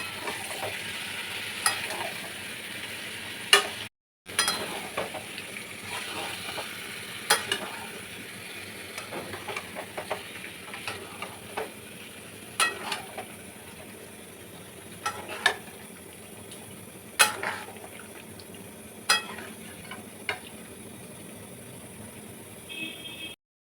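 Yogurt is stirred into chicken curry in a pan, the meat already cooked down until oil separates; a spatula scrapes and knocks in repeated strokes over a steady, soft sizzle, close by with no talking.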